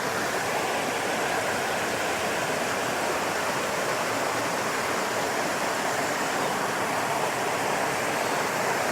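A fast-flowing trout stream pours over bedrock, giving a dense, steady rushing roar that stays loud and unbroken throughout, close by with no voices.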